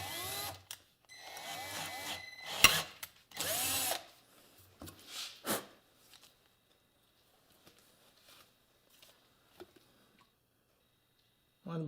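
Power drill boring through a fork tube pin on a Suzuki TS185, several short whining bursts in the first few seconds, then faint ticks and scrapes in near silence, with someone speaking between bursts.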